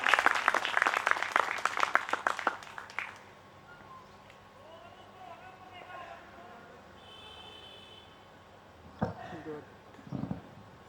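An audience at a farm-policy program breaks into a burst of dense clapping that fades after about three seconds, followed by quieter room sounds and scattered voices.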